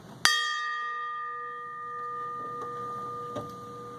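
A single ceremonial bell at a veterans ceremony rings out with a sharp strike and a long, clear, slowly fading tone, with faint room noise behind it.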